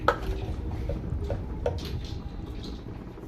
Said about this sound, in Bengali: দেখুন আবারও নেড়ে নিচ্ছি।